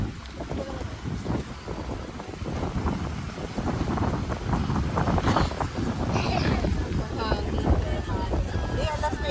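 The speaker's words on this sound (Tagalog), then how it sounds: "Wow, ang lakas ng hangin." Strong wind buffeting the microphone outdoors, a loud continuous rushing roar that grows heavier partway through, with faint voices underneath.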